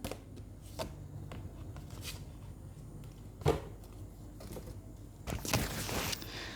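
Tarot cards are shuffled and drawn by hand in quick, crisp riffles and flicks, including a short burst of card-shuffling near the end, all close and fairly quiet.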